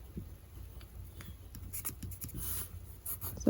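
A marker or pen scratches a line across fabric while making a hand-sewn face mask, a faint, close, intermittent scraping with short strokes and a soft thump at the end.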